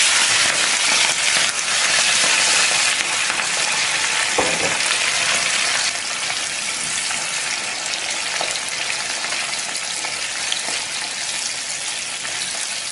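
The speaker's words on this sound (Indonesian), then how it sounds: "kita siapkan wajan dan minyak untuk menggoreng udangnya" Shrimp frying in oil in a wok, a steady crackling sizzle close up, with a brief stir or clank partway through and no voices.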